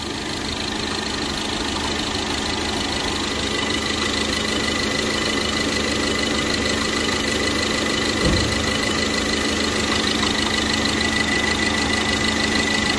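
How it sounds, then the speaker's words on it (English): A 2014 Ford Fusion engine idles steadily with its AC compressor running, a close, continuous mechanical hum and whir with a brief low thump near the end and no talking. "Now the AC compressor is working."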